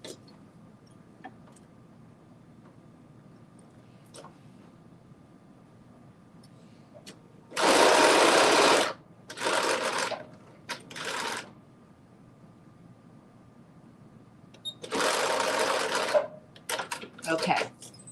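A sewing machine stitches a garment piece closed in several short, loud bursts separated by quiet pauses, close up, with a low background hum between runs.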